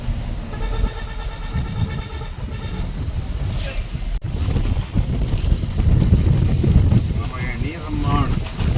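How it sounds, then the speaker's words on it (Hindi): A cold wind blows on a sunny day along a mountain road from Dehradun toward Joshimath, buffeting the microphone in loud, uneven gusts with voices faintly underneath. "धूप भी लगी है पर ठंडी हवा चल रही है"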